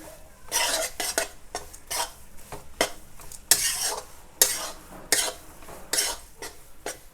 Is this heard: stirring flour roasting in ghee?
yes